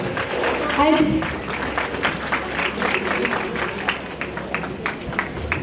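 Audience applause at a school annual day, a steady mass of clapping hands filling the hall with even rhythmic patter, and a voice speaking briefly early on.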